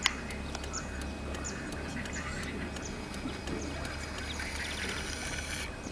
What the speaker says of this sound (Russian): Чайки поют.